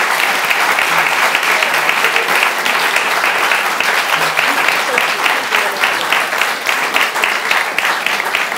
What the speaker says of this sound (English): I want you to give a big round of applause